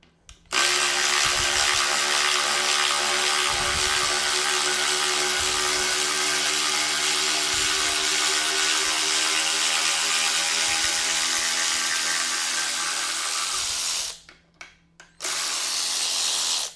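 Cordless ratchet driving a timber lock screw into wood, a continuous whirring motor drone with a faint knocking pulse under it, stopping briefly near the end and then starting again.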